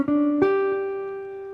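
A short bebop blues guitar line rising to the 13th, two plucked notes heard alone, the second ringing out and slowly decaying.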